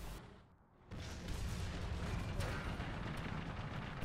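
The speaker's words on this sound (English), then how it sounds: "So what happened there? Ammunition exploded." Tank ammunition detonating in War Thunder, a broad booming blast after a brief lull that rolls into a sustained loud rumble of explosions and debris lasting several seconds.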